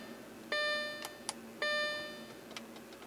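The warning chime of an Audi A4 bongs twice inside the car, each tone ringing out and fading, with faint clicks and cabin hum between them.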